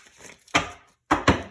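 Old tarot cards are shuffled in two or three short, crisp riffling bursts, close and fairly loud, separated by brief silences.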